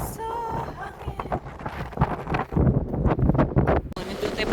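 Strong coastal wind buffets the microphone on Granite Island at Victor Harbor, Australia, roaring in loud, uneven gusts while people talk over it.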